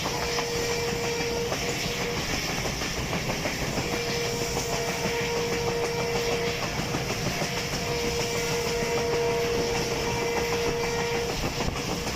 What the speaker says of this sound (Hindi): राशिदाबाद रेलवे स्टेशन पर छोटा सा हाल्ट करने के बाद गाड़ी रवाना हो चुकी है